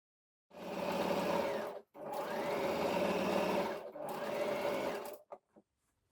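A sewing machine stitches the side seams of a pair of jeans in three steady, close bursts of whirring, separated by short pauses, followed by a couple of brief clicks.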